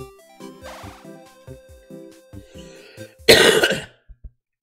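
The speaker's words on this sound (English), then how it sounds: "Sorry for my phlegmy cough." One loud, harsh, phlegmy cough bursts out near the end, preceded by soft clicks and a faint electronic tune from a retro game, with no talk.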